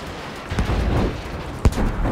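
Explosions in the video game Battlefield V: a deep rumbling blast swells in, then a sharp, loud boom hits near the end, with no voices over it.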